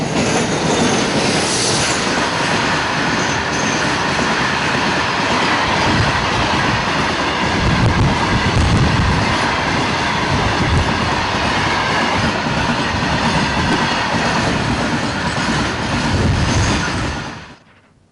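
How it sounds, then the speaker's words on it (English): A passenger train on the Mangalore–Bangalore line runs on its rails with a loud, continuous rumble, rhythmic wheel clatter and occasional squeal, near and steady before fading away at the end. "the passenger trains will run between the state capital and the harbour city on Saturday"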